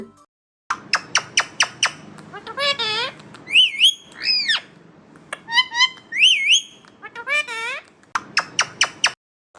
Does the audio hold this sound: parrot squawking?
yes